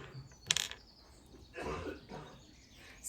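Plastic washers being pushed onto the backs of safety eyes for a plush animal, a couple of sharp little clicks and snaps close by, then a softer rustling press, quiet and brief.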